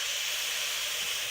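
Steam hissing steadily from a pressure cooker's toggle while black eyed peas cook, a continuous loud, breathy hiss on its own.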